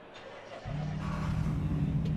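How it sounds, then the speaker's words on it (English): Race car engine in the Rennsport racing game, a low steady drone that jumps to a louder, rising rev partway through and holds a strong buzzing tone to the end, heard alone. "Okay, and what about the engine sound?"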